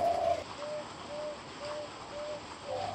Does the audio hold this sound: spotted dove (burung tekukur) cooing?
yes